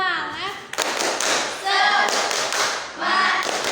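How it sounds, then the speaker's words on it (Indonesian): Children in an Indonesian classroom do a rhythmic clapping chant together, bursts of claps and taps alternating with their chanted voices in a quick pattern, loud and close. "kita tepuk semangat terlebih dahulu"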